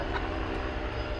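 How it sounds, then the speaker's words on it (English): An unmarked Atlas Air Boeing 767 airliner passing at night near DFW Airport, a steady, loud broadband engine roar with no talk. "At Atlas Air 767, unmarked"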